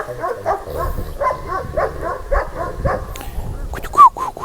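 Low, rumbling dog growls repeat in a steady rhythm up close, ending with a brief sharp yip.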